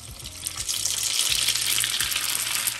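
Buckwheat dropped into hot oil to make popcorn sets off a loud, continuous hissing sizzle, close and steady from start to finish, with a faint low hum beneath.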